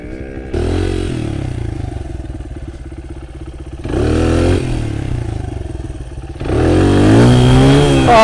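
A motorcycle engine revs hard and close by during wheelie attempts, with loud surges of rising pitch at the start, near four seconds and near six and a half seconds, settling to a steady drone between bursts.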